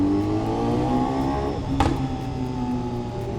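Steady engine drone of a BMW S1000RR superbike held at revs, with a brief sharp burst near the middle, fairly close and continuous throughout.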